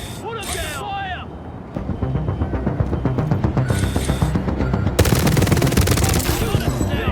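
Sustained automatic gunfire in The Division, loud rapid bursts that build and intensify over several seconds, with shouting voices and combat chatter mixed in.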